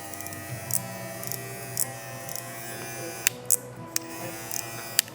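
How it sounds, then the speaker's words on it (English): A new FX One Lo Pro cordless hair clipper runs steadily with a close, even electric hum, not yet oiled, with a few faint clicks and handling taps over the drone. "Turn it on. Man, she hums good."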